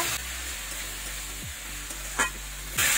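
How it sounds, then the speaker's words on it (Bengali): Ground ginger, cumin and chili paste stirred in a hot pan while cooking bottle gourd with prawns, a steady close sizzle with scraping stirring strokes and a few sharper clinks, no talk. "আদা, জিরে, লঙ্কা একসঙ্গে বেটে দিয়েছি, এটা দিয়ে দেবো। দুই 3 মিনিট ভালো করে নাড়াচাড়া করে নেবো।"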